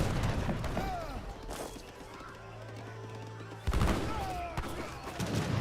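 Gunfire from musketeer units in the real-time strategy game Age of Empires 3, with dense crackling volleys and battle noise, loud at the start and again after a brief lull.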